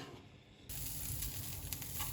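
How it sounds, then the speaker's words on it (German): Fatty pork sizzles in a pan with no added oil as it renders for carbonara. Faint quiet at first, then a sudden steady crackling sizzle starts and holds close by. "Wenn wir da jetzt ganz langsam schön knusprig braten."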